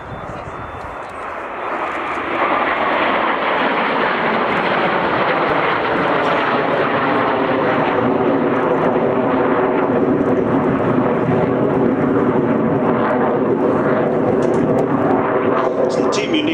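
A display team jet aircraft pulls up into a barrel roll at the Cotswold Airshow in 2010, its loud, sustained engine roar swelling quickly and holding steady overhead.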